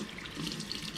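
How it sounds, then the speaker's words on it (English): A kitchen tap runs steadily, water splashing as it rinses a freshly gutted, feathered farm chicken, a continuous close hiss of flow and spatter without talk. "We'll rinse it off a bit"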